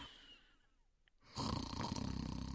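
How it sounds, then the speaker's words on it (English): Faint, quiet stretch followed by a louder rough, rasping snore with a steady rattling texture. "He is snoring in his bedroom."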